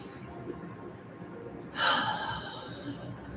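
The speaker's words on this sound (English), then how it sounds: "just take some nice deep breaths" One deep, breathy inhale or exhale rises suddenly partway through, close and fairly loud, then fades with a softer breath after, over quiet room noise.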